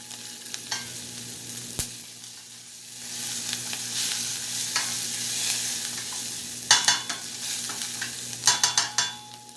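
Eggplant sautéing in a hot pan, a steady sizzle with intermittent stirring scrapes and clatters that grow sharper toward the end, no talking.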